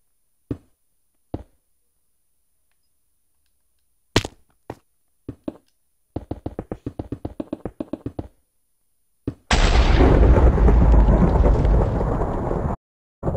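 Thunderstorm in Minecraft: scattered sharp taps and a rapid burst of clicks, then a loud sustained roar of thunder and rain that rumbles for several seconds before cutting off abruptly, with no talking.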